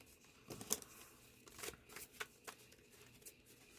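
Tarot cards being shuffled and pulled from a deck, quiet close riffles and soft flicks in short bursts, alone with no voices.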